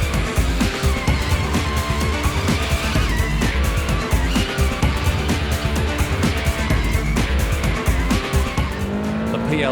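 Rally car sliding sideways at a 2005 NSW round of the Dutton Rally, engine roaring hard with loud, sustained tire squeal and skidding on the stage, close and continuous throughout.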